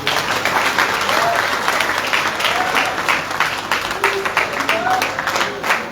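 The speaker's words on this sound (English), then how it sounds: "Another round of applause for our President, Dr. Fatima Adamu." A crowd applauds a speech by the First Lady of Sierra Leone, a long, loud, even wave of many hands clapping, with a voice speaking over the clapping partway through.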